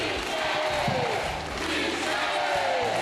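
A large crowd at a political rally for Michelle cheers, shouts and applauds in a dense, steady roar that carries loudly throughout.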